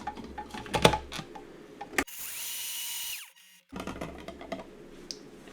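Seeds are ground in an electric grinder that gives a loud, steady buzzing whir for about a second. Handling clatter and knocks come before and after the burst.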